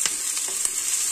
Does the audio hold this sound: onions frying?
yes